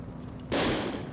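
A single sharp burst of assault rifle fire erupts from the video game Second Sight, loud and close, cutting in abruptly over a low background hum and fading quickly.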